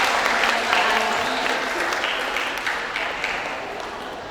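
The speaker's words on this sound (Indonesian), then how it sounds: "Kalau gitu tepuk tangan dulu dong buat kedua narasumber kita yang keren banget ini buat Pak Aji." Audience applause at an Indonesian university public lecture on financial freedom for young people, a steady wash of many hands clapping in a hall that slowly fades over several seconds.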